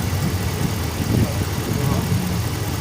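The 5.7 liter V8 HEMI in a 2015 RAM 1500 idles with a steady, even rumble, heard close under the hood.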